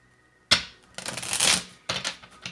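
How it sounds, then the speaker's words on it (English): Tarot cards being shuffled by hand at close range in three quick riffling bursts, each a crisp papery flutter with short pauses between them. "let me shuffle a few more times"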